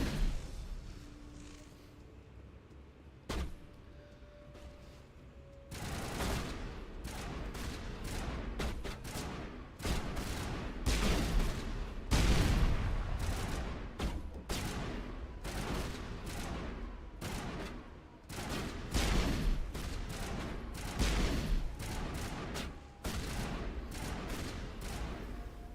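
Repeated shotgun blasts from an in-game firefight, with sharp reports in an uneven rhythm that go on for about twenty seconds after a quiet opening, fairly loud and with almost no speech.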